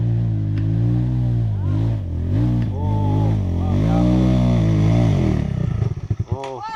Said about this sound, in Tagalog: Ubirhit ang imo motor.